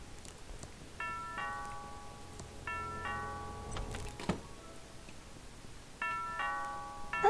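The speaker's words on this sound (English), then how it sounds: "Sounds like the doorbell." A doorbell in the video game Thimbleweed Park chimes three times, spaced a few seconds apart, its clear ding-dong tones ringing faintly over quiet background hiss.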